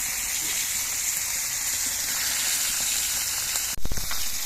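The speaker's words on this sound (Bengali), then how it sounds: "এবার মাছগুলো ভেজে নিয়ে নিচ্ছে" Live koi fish, three at a time, fry in hot oil in a pan with a steady close sizzle, broken near the end by a brief louder burst of spattering.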